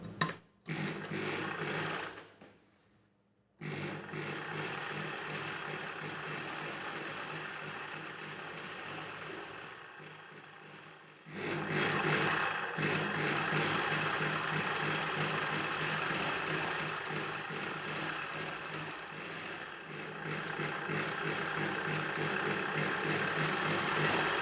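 A sewing machine stitches a silk skirt panel and its lining together for a child's pattu pavadai, a close, loud, continuous mechanical whir with brief stops between runs.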